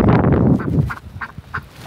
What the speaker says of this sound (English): But that chicken right there,